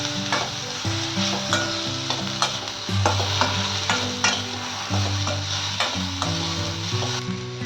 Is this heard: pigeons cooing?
no